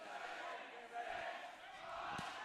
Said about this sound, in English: The crowd chanting down the seconds.